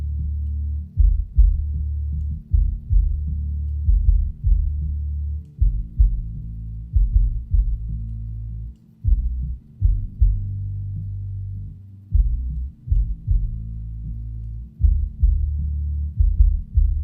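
Mix bus with fast-attack, fast-release multiband compression pumping on a heavy low-end groove, the kick drum thumping in a steady repeating rhythm with the bass swelling and ducking between hits, loud and continuous.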